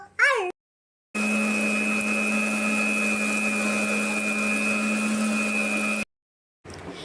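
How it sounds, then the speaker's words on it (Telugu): A mixer grinder grinds roasted black urad dal in one long, loud, steady motor whine, cut off cleanly after a few seconds, with brief silence before and after. "మిక్సీ అయితే పట్టేసుకుందాము"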